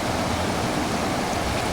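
River water rushes steadily past an intake screen with a check valve on wild rocky off-grid land, a loud, continuous close-up wash of flowing water with no talking.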